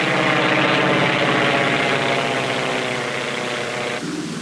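A North American B-25 Mitchell, a WWII military aircraft, drones with a steady, loud, continuous piston-engine roar that holds level and then drops slightly near the end.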